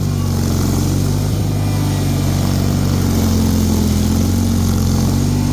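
A Bolens HT23 garden tractor runs loud and close while stuck in heavy, melting deep snow. Its engine holds a steady, throbbing mid-pitched drone with a slight strain throughout.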